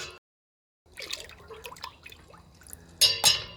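Dissolved plant dye poured into cold water in a container, a brief trickling splash with small drips and clinks, close and fairly quiet after a moment of silence.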